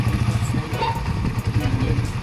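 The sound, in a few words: motorcycle engine running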